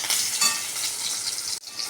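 Tomatoes fry in a pan for aloo dum, giving a bright, continuous sizzle with a brief stirring scrape midway and a short break near the end, close and steady.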